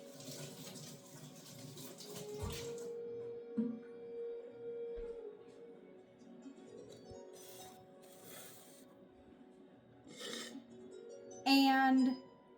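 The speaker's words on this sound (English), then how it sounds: "So now I'm going to wash my hands." Hands are washed under a running kitchen tap. Water streams and splashes unevenly over about twelve seconds, with some clinks and a louder gush near the end.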